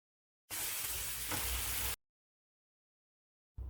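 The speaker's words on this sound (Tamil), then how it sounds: "அரைச்சி வச்ச தொக்கை சேர்த்து நல்லா வதக்கி எடுக்கணும்" Ridge gourd thokku sautéing in sesame oil with mustard seeds, urad dal and curry leaves gives a loud, dense sizzle for about a second and a half, which cuts off sharply. A brief burst returns at the very end. No voices.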